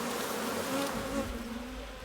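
Honeybees in an opened hive, agitated as the brood area is exposed: a dense, continuous droning buzz, close and steady, with no voices.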